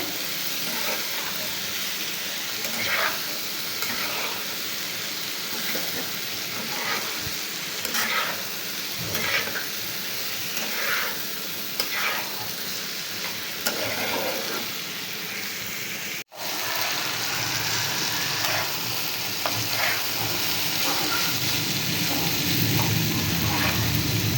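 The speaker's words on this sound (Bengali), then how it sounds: "একটু হলুদের গুঁড়া দিয়ে আবারও একটু ভালো করে নাড়াচাড়া করে নেবো" Pumpkin fry being stirred with salt and turmeric powder in a frying pan, a steady sizzle with repeated scraping and stirring strokes throughout, one brief dropout midway.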